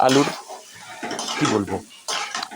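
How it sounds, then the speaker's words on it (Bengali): Boiled potatoes stirred into a spice mixture in a pan produce short scraping and clattering strokes of a utensil against metal, close and uneven, with a soft sizzle between them. "আগে থেকে সিদ্ধ করে রাখা আলুগুলো ছিল সেইগুলো নিয়ে আমরা এই মিশ্রণের মধ্যে ঢেলে দিলাম, দিয়ে ভালো করে মেশাতে থাকবো"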